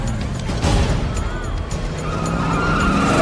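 A car races at high speed after a bus in the 1994 film Speed. The engine roars and the tires squeal and skid in a loud, continuous rush.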